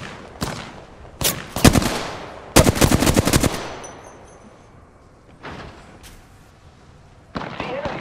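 Bursts of automatic weapon fire in the battle-royale video game Apex Legends, with several loud rapid volleys in the first half, then quieter shots and another burst near the end.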